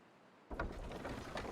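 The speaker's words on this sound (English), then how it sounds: "Water wheel is powering this up." A water wheel turns in a fantasy video game, a steady soft mechanical churning and sloshing with a few rhythmic creaks, fairly quiet and close.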